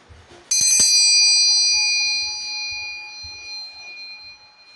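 Bell signal, a sharp bright metallic strike that rings loud and slowly fades over several seconds, heard alone.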